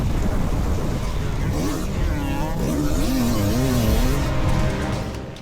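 A Yamaha YZ500 two-stroke motocross bike races around a track at a national championship, its engine loud and close, revving with a wavering pitch that rises and falls as it pulls through corners.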